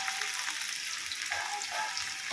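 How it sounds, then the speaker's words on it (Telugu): Onions sizzling in hot oil in a pan for chicken fry, a loud, close, continuous crackle and hiss with no talk over it. "ఇవి కొంచెం బాగా దోరగా అయితే ముందు వేగాలి"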